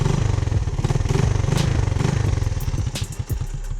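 A 1985 Honda ATC 200M three-wheeler engine running, a loud close motorcycle-like putter with a rapid uneven firing rhythm and a few clunks, the beat faltering near the end as it struggles to idle.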